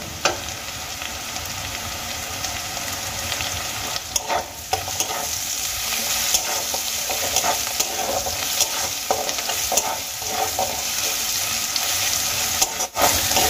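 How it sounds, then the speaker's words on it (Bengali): Grated ginger and garlic frying with onion in a pan for a spicy aubergine and potato curry, a steady close sizzle with stirring scrapes and clinks running throughout, no voices. "পেঁয়াজের সঙ্গে আদা রসুনটা আমি খুব ভালো করে ভেজে নেব"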